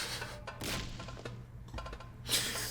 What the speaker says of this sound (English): Someone had just pounded the table.